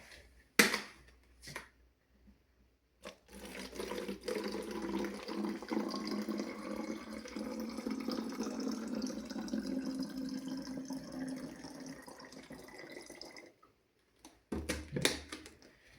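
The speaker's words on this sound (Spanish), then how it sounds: "cogeremos una botella y la llenaremos hasta la mitad de agua" Water pours steadily into a bottle, filling it halfway, for about ten seconds, faint and close, with a few clicks and knocks before and after.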